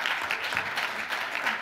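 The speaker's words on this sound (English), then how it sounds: "So everybody, please, a round of applause for Wolfgang Müller." Steady audience applause at a climate conference session, many hands clapping together in a continuous, moderately loud wash for a brief moment before the speaker begins.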